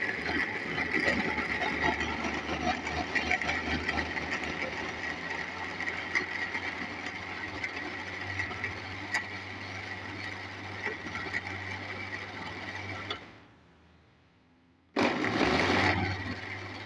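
A blender grinds milkshake with a cup of sugar in a steady, whirring mechanical drone. It cuts out for a moment, then starts again, with no voice over it.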